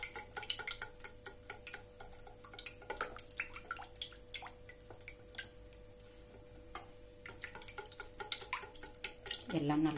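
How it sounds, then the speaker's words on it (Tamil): Milk is poured into semolina cake batter and stirred, producing close, quiet clicks and taps of a utensil against a bowl in an irregular rhythm, with someone speaking at times. "இப்ப இதுல பாலையும் ஊத்திடலாம்."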